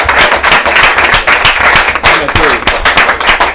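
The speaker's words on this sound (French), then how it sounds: "On l'applaudit." A crowd applauds a guest on a French talk show, with dense, loud clapping running steadily throughout and a few scattered voices mixed into the applause.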